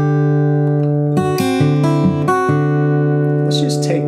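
Blues rag melody picked on an acoustic guitar, with ringing sustained notes and a bass line moving under the tune, played alone and close for a few seconds.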